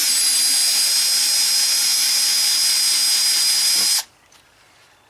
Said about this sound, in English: Put a little drill in here.